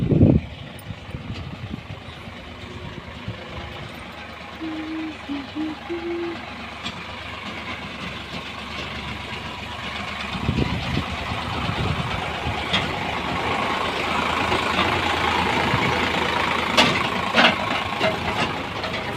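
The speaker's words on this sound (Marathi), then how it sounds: "ट्रॅक्टर चाललं ट्रॅक्टर ते वाळू वगैरे खाली करून" A tractor engine runs while sand is unloaded, a low rumbling idle that holds steady and grows slightly louder toward the end, with occasional knocks and brief voices.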